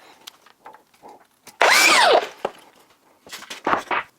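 A power tool bites into reclaimed wood for a barn door build, cutting a piece to length in one loud, sustained burst of about half a second, with quieter workshop clatter before and after.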